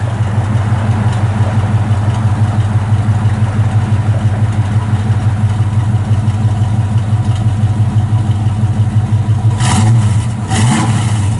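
A 1970 Chevrolet C10 shortbox pickup rumbles steadily from the exhaust, a deep, loud, continuous engine drone heard up close, with a brief rise in revs near the end.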